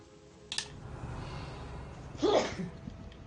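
A single close sneeze bursts out late in the quiet stretch, preceded by a brief sharp intake-like sound, over faint background noise.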